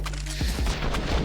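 Rifle fire in a Counter-Strike pro match on the Inferno map rattles out as a quick, loud burst of rapid shots over a low steady game-noise bed, with no talk.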